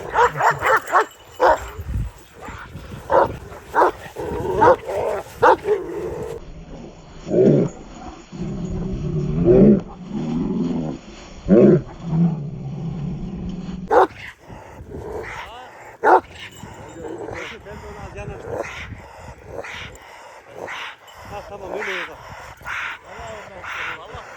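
Kangal dogs at an informal outdoor dog show bark in loud, close bursts, with growls, yips and whimpers between them, while people talk and call out in the background.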